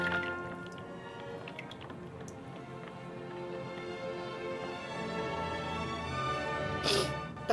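Water dripping after a face is dunked in a bowl of ice water, a scattering of small irregular drips and soft splashes, quiet and close, ending in a brief louder splash.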